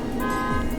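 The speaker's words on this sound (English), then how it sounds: "whose car alarm?" A car alarm or horn-like tone sounds steadily near a garage where a 1990 300ZX twin turbo is being worked on, a sustained electronic pitch lasting under a second, fairly faint against the background.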